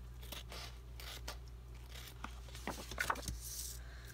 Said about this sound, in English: So then we'll cut off this part that's hanging down.